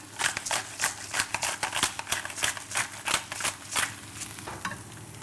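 Stuffing of fresh breadcrumbs seasoned with salt and pepper being stirred in a hot pan, a steady series of scraping, sizzling strokes in quick irregular rhythm, close and fairly loud with no talking.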